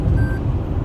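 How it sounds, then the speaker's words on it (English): A Toyota Camry's lane departure alert sounds as a thin steady beep over loud road and engine rumble inside the moving car. "Now it's beeping with me because I did not use my turn signal."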